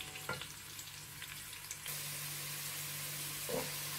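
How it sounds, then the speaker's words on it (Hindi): Onions browning in oil for chicken pulao make a dense, constant sizzle that turns louder and brighter partway through, with a couple of brief knocks. "इसमें हमने डालने हैं प्याज और इनको हम कर लेंगे ब्राउन।"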